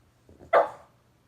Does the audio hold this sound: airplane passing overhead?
no